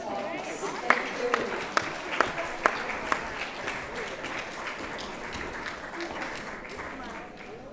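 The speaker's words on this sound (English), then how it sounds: "Let's give all the 7th graders another round of applause." An audience applauds the 7th graders at a school awards event, with a steady patter of clapping and a few sharper individual claps standing out over a hall-wide wash that slowly fades.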